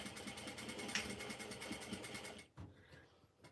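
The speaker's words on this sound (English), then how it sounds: "I'm gonna just sew in a little bit on each side" A sewing machine stitches the sides of a fabric beachcomber pouch, a faint, steady, fast mechanical whirring that briefly stops and then starts again near the end.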